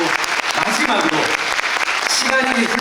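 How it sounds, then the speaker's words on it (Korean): Applause from a theater audience at the curtain call of the musical Winter Wanderer, dense continuous clapping filling the hall, with voices and cheers rising through it. "박수 한번 드리시죠"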